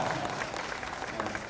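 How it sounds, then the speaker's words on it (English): At a live promotional event, a crowd breaks into a short burst of steady, even applause. It sounds fairly distant and soft, with no voice on top. "I think that deserves a louder round of applause."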